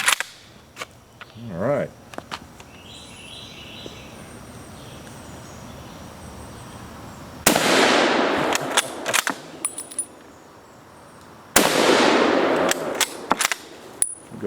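Two loud bursts of rifle fire from U.S. military rifles crack out outdoors across a hillside, each a sharp blast with ringing echo, separated by quiet with insects and a brief spoken comment.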